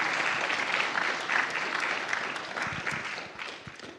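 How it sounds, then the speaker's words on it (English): A congregation applauds at a church service, a dense, sustained wash of clapping hands that tapers slightly toward the end. "Let's have another round of applause."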